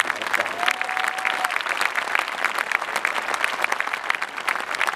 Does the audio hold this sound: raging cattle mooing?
no